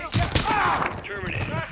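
Rapid gunfire from a new weapon in the Call of Duty: Modern Warfare 3 campaign, heard as dense, overlapping shots mixed with game voices and talk.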